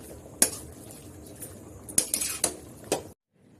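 Chalta (elephant apple) pickle being stirred in a pan, with a spoon scraping and clinking against the metal in several sharp strikes, closely miked and with no voices.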